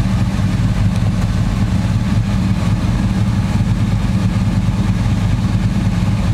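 Engine of a 1959 GMC 3100 pickup truck running at a steady idle, a loud, close, even low rumble with no talking.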